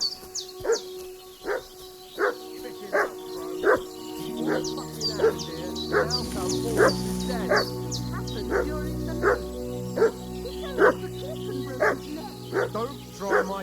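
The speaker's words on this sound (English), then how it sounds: "What's that dog making such a fuss about?" A dog barks repeatedly in a village in Kingdom Come Deliverance II, steady evenly spaced yelps over a low droning background, while voices talk partway through.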